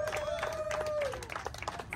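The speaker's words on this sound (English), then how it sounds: "Let's give them a round of applause" Men at a Denver shelter give a short round of applause, scattered claps under a sustained whistle-like tone that soon fades, with voices mixed in.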